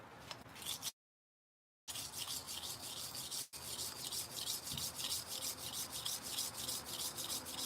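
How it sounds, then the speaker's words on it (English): Sand is scraped and rubbed across a plate with abrasive in a continuous gritty hiss of steady strokes. The sound cuts out for about a second, then resumes at an even, moderate level. "that obnoxious sound of the sand on the plate"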